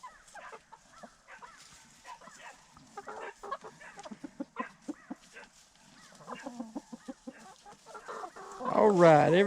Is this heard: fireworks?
no